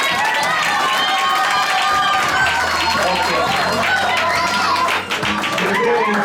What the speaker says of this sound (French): Est-ce que nous pouvons applaudir encore très fort?